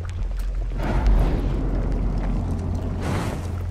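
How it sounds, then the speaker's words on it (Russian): A spirit blast going off in the horror game The Medium, a loud, sustained rumbling roar with a heavy low boom swelling about a second in and a brighter burst near the end, no talk over it. "Так, ну, духовный взрыв."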